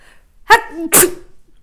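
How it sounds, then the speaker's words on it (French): A single sharp sneeze, close and loud, with a brief voiced lead-in followed by a burst of breathy noise. "excusez-moi, je vais éternuer, j'ai l'impression"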